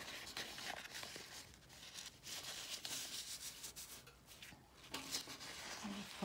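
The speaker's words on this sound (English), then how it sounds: "I'm simply going to fold my paper towel in half." Soft rustling and crinkling of paper towel being folded and pressed, close and quiet, in short uneven bursts.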